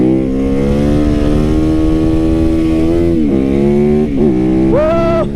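A cruiser motorcycle rides past close by, its engine drone holding steady before dipping and then rising as the throttle opens near the end.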